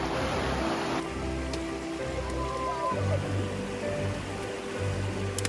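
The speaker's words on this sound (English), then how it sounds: "Making a river crossing." Water rushes and splashes steadily as a river is crossed on a mossy Pacific Northwest hiking trail, a broad close flowing wash that shifts in tone partway through.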